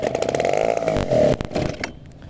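A small TU 26 glow engine on an RC trainer plane sputters and revs unevenly while being started, its buzzing rising and dropping with abrupt cut-outs before fading at the end.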